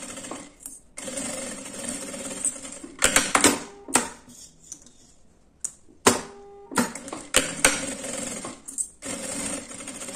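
A sewing machine stitches beside the zipper teeth on a small lined bag, running in several bursts of rapid mechanical whirring, separated by brief pauses and clicks.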